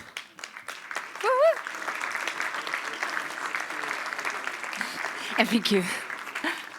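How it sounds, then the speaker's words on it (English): A conference crowd claps for a speaker in a sustained round of applause, with a voice speaking over the clapping. "Can I ask for a big round of applause again for Gemma?"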